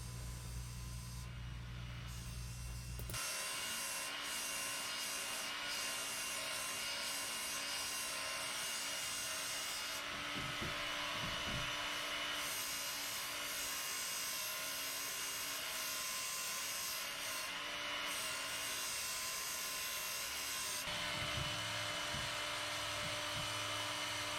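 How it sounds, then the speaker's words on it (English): A powered grinder cuts chips out of the edge of an axe blade, a loud continuous high-pitched whine that shifts in pitch as the load changes and drops briefly at points, going on without any talking. "I'm actually taking out those chips that are in the blade. Really, you just want to grind the front."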